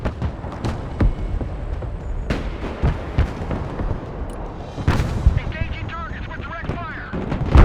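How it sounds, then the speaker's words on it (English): Artillery firing in the video game Broken Arrow: a series of heavy, booming shots with rumbling tails, some close and loud, over background battle noise and brief radio-style voice chatter. "Artillery ready to fire, sir."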